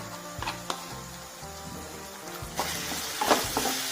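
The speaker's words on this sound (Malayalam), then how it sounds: "അപ്പൊ ഇതാ നമ്മള് ഇഞ്ചി വെളുത്തുള്ളിയൊക്കെ ചതച്ച് വെച്ചത് ചേർത്ത് കൊടുക്കുക കേട്ടോ" Crushed ginger and garlic frying in a pan, a soft continuous sizzle broken by clicks and scrapes of stirring, growing louder and busier toward the end.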